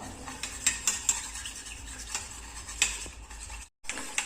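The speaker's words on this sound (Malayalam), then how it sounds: "ഇതെല്ലാം കൂടെ നമുക്ക് നന്നായിട്ടൊന്ന് മിക്സ് ചെയ്ത് കൊടുക്കാം" Toothpaste is stirred into water to clean silver jewellery: a utensil clinks and ticks against a bowl in quick, uneven taps, fairly quiet, with a brief silent gap near the end.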